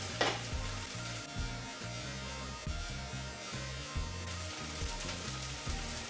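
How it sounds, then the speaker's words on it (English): Onions and garlic sizzle in a pan for a vegan tomato and white bean stew, a continuous frying hiss over low rhythmic bubbling, steady and fairly close with no talking. "we're going to throw in our onions. And we're going to let those cook for 5 minutes until they're softened"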